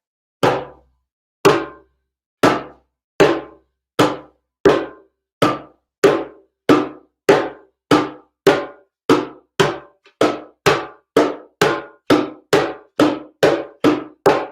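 A hand drum struck with deep bass strokes, about twenty evenly spaced hits that quicken slightly, each a round low thump that fades quickly, played alone.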